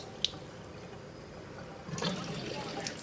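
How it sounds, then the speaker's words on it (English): Tap water runs up through a K8 machine's system, a steady low wash of flowing water that swells louder near the end, with a brief click early on. "So all we're doing is turning on the tap. Now, that's the tap there. The water's coming out."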